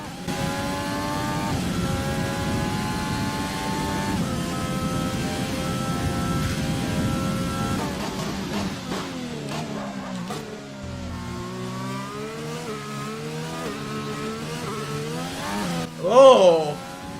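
Renault Formula 1 car engine in the racing game F1 2020 at the wet Austria circuit, a loud high-revving whine climbing through the gears, then dropping in pitch through downshifts before a final sharp rev burst.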